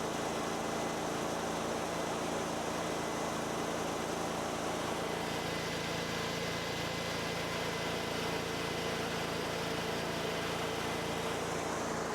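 An EZ Liner hydraulic power pack engine throttled up from idle, a steady dense mechanical roar with a constant hum and no change in level, running alone without voices.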